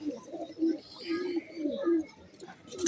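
A female pigeon coos in repeated low, throaty phrases, close and fairly clear, with brief chirps and faint background voices in between.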